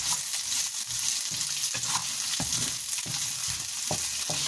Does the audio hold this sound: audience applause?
no